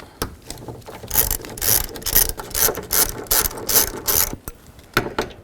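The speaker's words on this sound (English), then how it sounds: "Take these 3 nuts off. Use a 10mm socket." A ratchet fitted with a 10mm socket clicks in quick repeated strokes while loosening side mirror nuts on a 2004-08 Infiniti G35, the close, bright clicking coming in bursts with short pauses.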